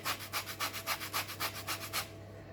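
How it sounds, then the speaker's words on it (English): An orange rubbed against a hand grater for zest, giving about a dozen even, rhythmic scraping strokes close up, then stopping. "So I'm going to do a little bit of grating, okay, on my orange"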